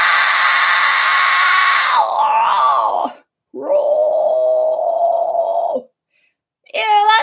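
A voice producing a vocal fry scream, with a long harsh rasping wail that drops in pitch, then a second sustained strained burst after a brief pause, and a short third outburst at the end, loud and close.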